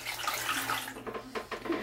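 Water sloshes and splashes in a baby's bath at close range, in soft irregular bursts with small trickles, and no one talks.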